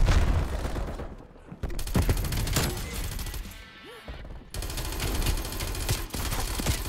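Rapid automatic fire from a fully upgraded Vargo 52 rifle in Call of Duty Cold War, dense loud bursts of shots broken by brief pauses, with game sound effects behind.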